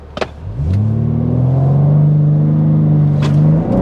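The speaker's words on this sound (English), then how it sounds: "Launch control in the all-wheel drive BMW M3 competition." An all-wheel-drive BMW M3 Competition launches with launch control, its engine surging into a loud, steady, rising roar of hard acceleration after a short idle.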